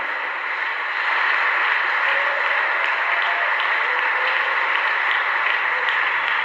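A church congregation applauds to acclaim the Lord during a French-language service, a steady, even burst of clapping from many hands that holds for several seconds with no talk over it.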